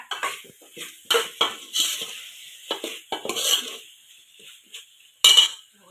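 Mutton curry being stirred in a pot over a wood-fired village stove, irregular metallic scrapes and clinks of a ladle against the vessel in uneven bursts, with quieter pauses between strokes; no voices.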